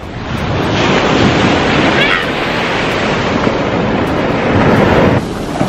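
Ocean waves wash onto a beach on a fine day, a loud, steady roar of surf mixed with wind buffeting the microphone.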